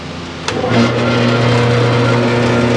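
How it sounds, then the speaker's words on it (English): Bandsaw cutting a part for a Yamaha twin ignition conversion, starting with a sharp onset and then a steady, loud motor hum with a sustained tonal whine, close and continuous. "This is handy for me, so I'm going to use the bandsaw."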